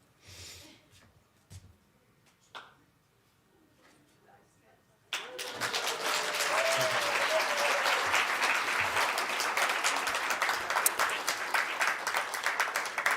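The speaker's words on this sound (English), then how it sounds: "Okay, another round of applause." Applause breaks out at the launch of the 2023 Census main report. The room is quiet with a few scattered sounds, then dense, sustained clapping suddenly swells from many hands and continues steadily to the end.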